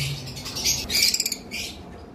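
A pair of lovebirds chirps in quick, bright bursts, with a rapid run of sharp tweets in the middle, fairly close over a faint low background hum.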